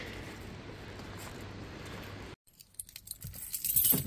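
Keys jangle close by in a burst of metallic clinks, ahead of climbing into an old Volvo, with steady engine-like rumble beforehand and a sudden drop to quieter rattling.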